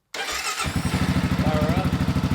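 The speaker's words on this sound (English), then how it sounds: "start up the bike, let it run for a while" A 2023 Kawasaki KLR 650 single-cylinder motorcycle cranks and fires up, then settles into a steady, loud, close thumping idle with a rapid even pulse; a voice speaks faintly over it.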